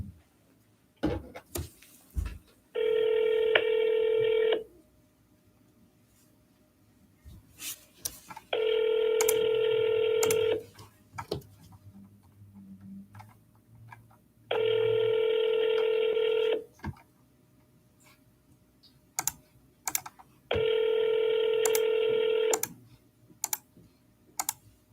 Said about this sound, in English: Calling to FSBOs right now.